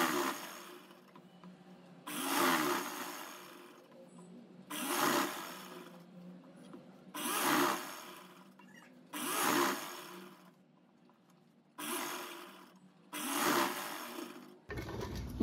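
A sewing machine stitches stretched elastic on a dress in short bursts, about seven runs of whirring stitching separated by quiet pauses, faint and close.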